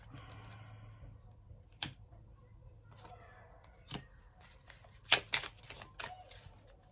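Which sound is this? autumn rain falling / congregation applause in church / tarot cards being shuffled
tarot cards being shuffled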